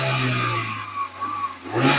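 A 2021 Maruti Suzuki Eeco car engine runs at a steady, fairly loud mid-pitched drone. It dips slightly, then revs up again near the end, with no voices.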